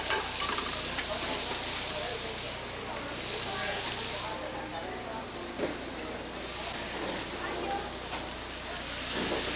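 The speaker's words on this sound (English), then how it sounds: "Heat the oil in a skillet and add the shrimp. Stir and add the garlic," Shrimp with garlic, ginger and basil frying in hot oil in a skillet in a busy restaurant kitchen, a steady loud sizzle and hiss with occasional stirring scrapes.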